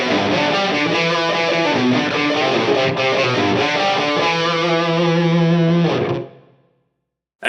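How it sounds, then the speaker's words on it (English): Distorted electric guitar through a Line 6 Helix plays a galloping intro rhythm, loud and dense for about six seconds before cutting off into silence. "The first snapshot is for the intro rhythm guitar part before the harmony comes in, and it sounds like this."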